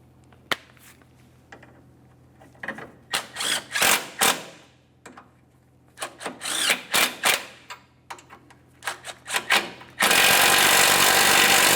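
A power tool runs down bolts on the CV axle of a 2006-2011 Honda Civic in repeated short whirring bursts with pauses between, close and loud, then a sudden dense rattling roar at the end.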